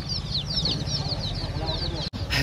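Local chickens cluck steadily and repeatedly at a poultry shop selling ducks and hens, close and fairly loud, with faint voices in the background.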